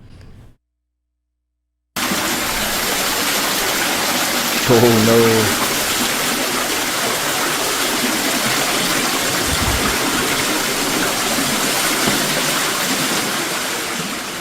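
Flood water rushes in a continuous, loud, broadband roar, steady from start to finish after a brief quiet opening, with a short exclamation and a few voices over it.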